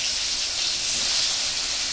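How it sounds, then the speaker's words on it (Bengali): Koi fish fry lightly in mustard oil, giving a loud, continuous close sizzling hiss without a break. "তাহলে আমি মাছ ভেজে নেবো এবার।"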